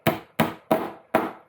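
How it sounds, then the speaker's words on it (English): A hammer strikes a metal pin four times, driving it into its hole during an FTEC1 Gen2 build. The blows are sharp, evenly spaced and close, with no voices. "So basically you're going to align it over the hole and get your hammer"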